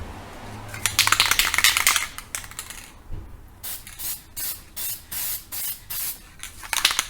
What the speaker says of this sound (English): now I'm getting ready to put the black color on there, and it's just a metallic black